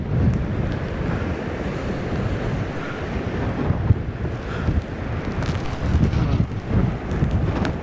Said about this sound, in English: the wind is exactly in front, so it's very, very strong